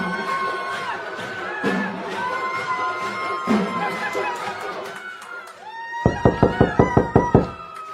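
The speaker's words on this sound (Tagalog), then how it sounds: "Oo pare, may kumakatok." A door knocked on in a rapid series of about eight sharp raps at the end, following a stretch of crowd noise, laughter and chatter from outside.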